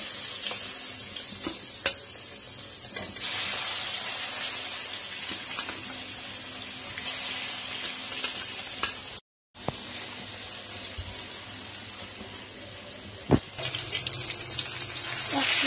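Katla fish fries in hot oil dusted with a little flour over a low gas flame, a continuous close sizzle with scattered pops and clicks and one brief cut to silence midway.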